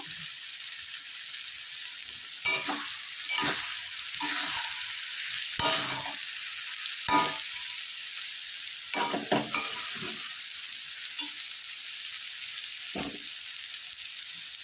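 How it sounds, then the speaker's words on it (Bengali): Water lily stems frying in a pan with a little sugar, giving a steady close sizzle broken by repeated scraping stirs of a spatula. "শাপলা ভাজা আমার হয়ে গেছে, এবার নামিয়ে আপনাদের দেখাচ্ছি।"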